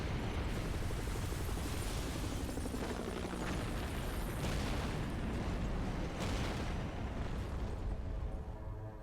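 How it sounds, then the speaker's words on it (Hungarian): In the Max Payne 3 video game, a building being blown up gives a long, loud, roaring blast with rumbling booms and crackling debris that keep going for several seconds. "Icipicit felrobbantottuk a helyet."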